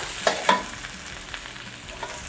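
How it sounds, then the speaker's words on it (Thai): Taiwanese bok choy stir-fried in hot oil gives a soft steady sizzle, with two sharper clatters of the utensil near the start and lighter stirring scrapes after. "เราจะผัดผักกวางตุ้งนะคะ กับน้ำมันไปก่อนนะคะ"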